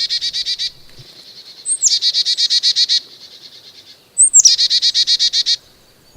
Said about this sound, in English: that's a common bird we have in our backyards right now, and that's a Carolina chickadee